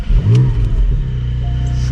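A Porsche 718 Spyder cranks and fires up close by with a sharp revving flare, then settles into a deep, steady idle rumble.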